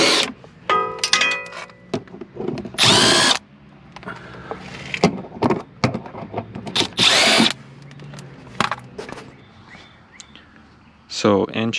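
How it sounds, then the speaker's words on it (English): An impact wrench with a 1.25-inch socket works on a Ford Focus during a clutch job, firing in several short, loud whirring bursts separated by pauses with quieter shop noise. "Big impact and send it."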